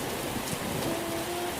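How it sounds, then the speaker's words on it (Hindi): Heavy night rain pours down as a cartoon sound effect: a dense, loud, steady hiss of falling drops with no voices. "रास्ते में बहुत जोरों से बारिश शुरू हो जाती है।"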